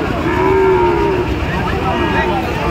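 A cow at a cattle market gives a loud, close moo that holds for about a second. The sustained low call then fades into busy market background noise.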